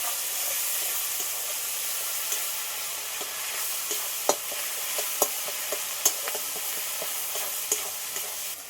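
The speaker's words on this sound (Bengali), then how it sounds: "একটা চামচ হলুদের গুঁড়ো একটু দিয়ে আদা বাটা এগুলো সব একসাথে একটু কষিয়ে নেব" Turmeric powder and ginger paste sauté in a pan with a steady, close sizzling hiss throughout, while a spoon stirs and scrapes in scattered light clicks.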